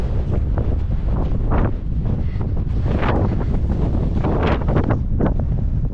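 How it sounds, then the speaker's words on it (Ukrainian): Loud, buffeting wind gusts roar across the microphone in uneven surges, with no voices. "сьогодні вітер такий, що голову в море знести"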